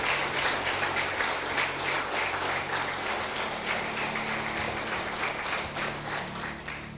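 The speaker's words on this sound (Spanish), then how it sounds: "Dale un aplauso a Jesús." A church congregation applauding during a Spanish-language worship meeting, dense rapid clapping from many hands held at a steady level for several seconds, with a low sustained hum underneath and no talking.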